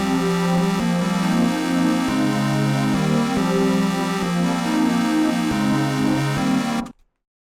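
Sustained synthesizer chords shift through a looping progression, loud and full, then cut off abruptly near the end.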